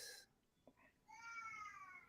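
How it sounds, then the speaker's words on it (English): A house cat meows loudly indoors, with a brief cry at the start and a longer drawn-out meow toward the end, heard alone without talk. "My cat is meowing so loud right now."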